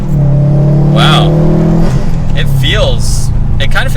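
Subaru WRX STI engine revving high under throttle, a loud sustained rising engine tone with a gear-related dip midway, heard from inside the car while people talk over it.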